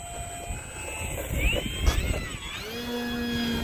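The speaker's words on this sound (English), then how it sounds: "There goes the airplane." An Arrows Husky 1800 mm RC airplane flies overhead in strong wind. Its small electric motor whines faintly and rises and falls in pitch as it passes, over steady wind noise with no talk.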